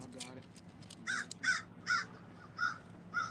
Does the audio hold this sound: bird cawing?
yes